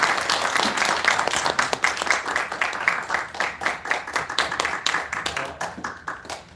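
Audience applause at a business meeting, steady dense clapping from many hands that keeps going the whole time, then thins and fades toward the end.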